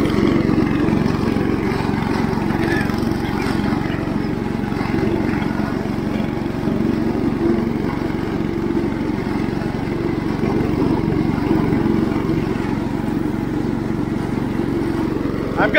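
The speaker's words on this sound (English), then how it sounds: "I've got the mowing deck set all the way up." An IH Cub Cadet 149 garden tractor mows tall barnyard grass with its deck raised high, the engine droning steadily and unbroken throughout at close range.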